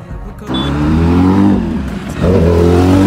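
Kawasaki ZX10R sport motorcycle exhaust revving hard, two loud throttle blips with rising engine tones close by, separated by a brief dip, with no voices.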